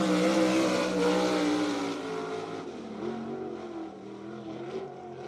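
A 360 sprint car roars around a dirt track at BAPS Motor Speedway in York Haven, Pennsylvania; the loud engine drone sweeps past and fades into the distance, with no voices.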